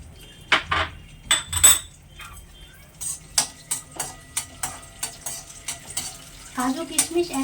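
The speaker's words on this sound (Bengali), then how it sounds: "এখন কাজুটা ভেজে নেব।" Cashews frying in a pan for chicken biryani, a run of close scraping and clinking stirring strokes in a loose rhythm over a faint sizzle, with a brief voice near the start.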